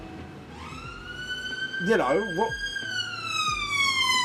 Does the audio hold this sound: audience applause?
no